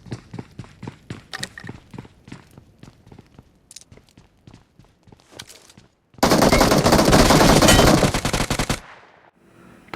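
Gunfire in a battle royale video game: a rapid train of sharp shots for several seconds, then a dense, loud burst of continuous fire lasting about two and a half seconds before cutting off.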